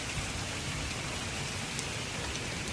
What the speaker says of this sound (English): little teeny size hail storm just come ripping through